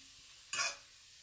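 Onions and dandelion greens stirred in a skillet, a single quick scraping swish over a faint background sizzle.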